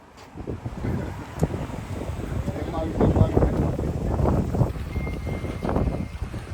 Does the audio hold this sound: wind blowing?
yes